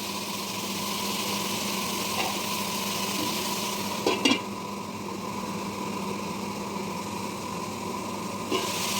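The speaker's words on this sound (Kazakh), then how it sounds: "Сәбізді де салып, жақсылап қуырып аламыз." Continuous, even crackling sizzle of carrots frying in hot oil for plov, with a couple of brief utensil clinks.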